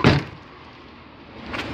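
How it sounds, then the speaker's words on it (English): A car door pops open with a sharp close thud at the start, then a quiet stretch of interior hush before a softer second clunk of door movement near the end, with no talking. "The door just opened."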